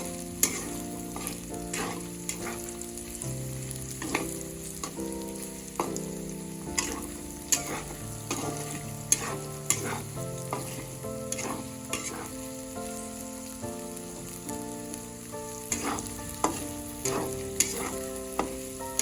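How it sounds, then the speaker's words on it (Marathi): Potato pieces fried in oil in a pan for sabudana khichadi, a steady close sizzle with regular spatula scrapes and stirring taps as music plays behind. "तर आता आपण ह्याला 2 ते 3 मिनिटं हलवून घेऊया चांगलं तेलामध्ये परतून।"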